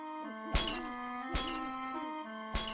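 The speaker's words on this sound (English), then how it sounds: "She smashed all light bulbs so that nobody could see her face at night." Light bulbs are smashed one after another, three sharp glass crashes spaced about a second apart over a sustained musical backdrop.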